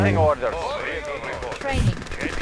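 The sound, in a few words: gunfire from soldiers in the video game Red Alert 2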